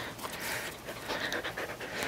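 Rapid, rhythmic panting from a puppy, breathy and fairly close, continuing steadily in a home garage setting with no talk over it.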